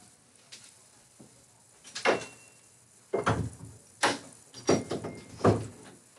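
An office door being shut, heard as several wooden knocks and thuds spread over a few seconds, fairly close in a quiet room.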